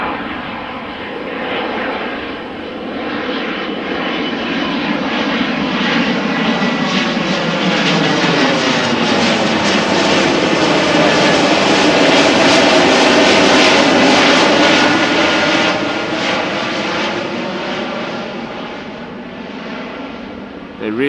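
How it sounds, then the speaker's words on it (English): Aircraft at Amsterdam Schiphol Airport taxiing, a steady loud engine roar that swells to a peak mid-clip and then eases off, continuous throughout with no talk. "They really are a lot quieter than those other planes"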